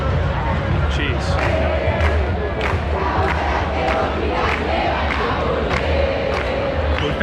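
A large protest crowd in the streets of Buenos Aires roars continuously, with loud chanting, shouting and rhythmic claps or bangs repeating through the dense, close hubbub.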